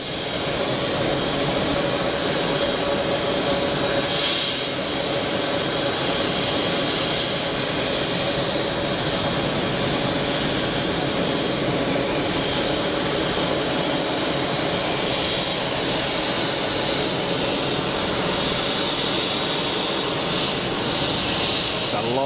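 An orange-and-white EasyJet airliner on short final approach at Geneva Airport, its steady broadband engine roar running loud and continuous for the whole stretch.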